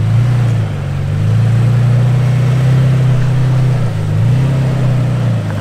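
Off-road rig engine at John Bull rock trail, a loud close low drone that dips and swells as the throttle shifts while crawling over rocks.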